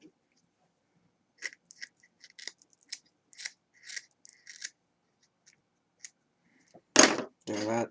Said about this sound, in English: we're going to take the scissors and trim this down just a little bit